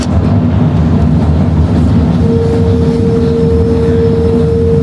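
Steady low rumble and rattle of a moving Sydney train carriage from inside, approaching International Airport Station, continuous and loud, with a faint electric whine rising partway through.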